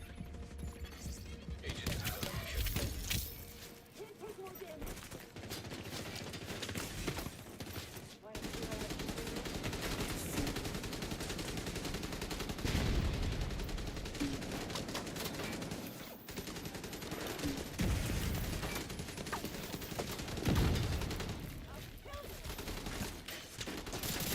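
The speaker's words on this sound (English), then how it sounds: "There I go getting shot from behind and in front." Sustained gunfire from a video game battle, with dense bursts of automatic and single shots rattling on and on as the player takes hits from both sides, broken by brief lulls, with speech mixed in.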